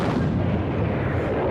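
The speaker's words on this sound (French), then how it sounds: "les GI subissent soudainement un bombardement massif. 2000 canons allemands pulvérisent leur position." German artillery bombardment from massed cannons in December 1944 in the Ardennes, a dense continuous rumble of overlapping booms and blasts with no pauses, loud and close.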